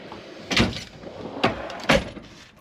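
Metal drawers in a mobile service van's tool storage sliding open and shut, three distinct rattling clunks spaced about a second apart, close and fairly loud with no talking.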